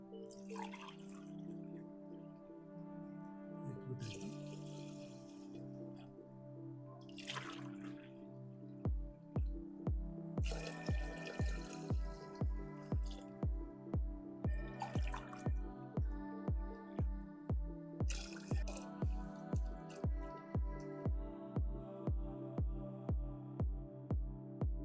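Water is poured from a cup onto washed rice in a pot, with splashing pours followed by a long run of evenly spaced drips that grow louder and more regular, quiet overall.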